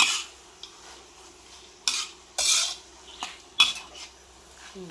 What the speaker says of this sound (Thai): แล้วก็คนให้มันทั่วก่อนนะคะ